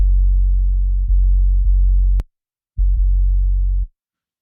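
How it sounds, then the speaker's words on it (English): Deep, smooth bass notes with subtle tape saturation hold steadily with a few soft re-articulations, cut off briefly into silence, then return for one more sustained note. "is being treated with just a little bit of tape saturation"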